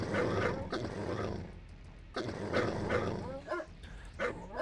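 Attack dogs in the Command & Conquer Red Alert strategy game bark in two loud clustered bursts, gruff and close, with a short gap between them and a few softer yips trailing off.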